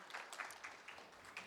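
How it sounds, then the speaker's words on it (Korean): Light, fairly quiet applause from a symposium audience in a hall, a short burst of scattered clapping with no talking over it. "큰 박수로 발표 청해 보도록 할게요."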